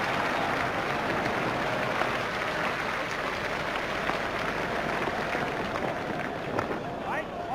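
A stadium crowd applauds and cheers without pause in an EA Sports cricket game during a Pakistan versus West Indies final in Dhaka. The broad wash of noise stays dense and steady.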